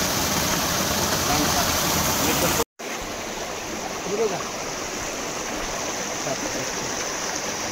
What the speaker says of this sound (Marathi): छोटासा धबधबा आहे बघा